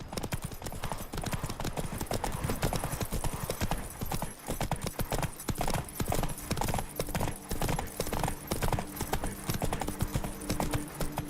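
Roach, the horse in The Witcher 3 video game, gallops with rapid, rhythmic clip-clopping hooves, close and continuous, with game sounds underneath.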